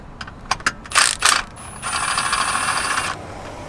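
Ratchet backing out a bolt during an oil pan gasket job on a 2007–2010 BMW 335i: a few crisp close clicks, then a steady metallic whir as the bolt spins loose.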